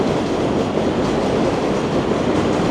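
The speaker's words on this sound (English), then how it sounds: "And you hear the 7th train." A loud, close elevated 7 subway train in Queens, New York roars past steadily, its rumbling wheels and rattling cars filling the whole clip without pause.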